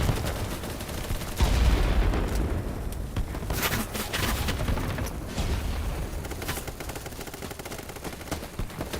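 Gunfire in the shooter game BattleBit: dense, overlapping rapid bursts of shots and booms crackle continuously at close range for the whole stretch, with no pauses.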